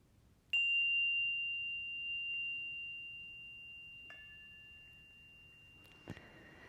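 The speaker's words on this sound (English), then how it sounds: "here's my chime mallet. And I don't strike this chime. I don't hit this chime. I invite it to sing." A chime is struck once with a mallet, ringing out as a clear sustained tone that slowly fades over several seconds before a second, softer strike adds a fresh ring near the end, with no talking.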